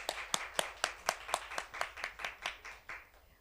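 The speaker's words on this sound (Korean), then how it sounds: "하나님 앞에 영광의 박수 올려드릴까요?" A congregation claps together in a church New Year's Eve service, a dozen or so sharp, evenly spaced claps at a steady rhythm, moderately loud, with no talking.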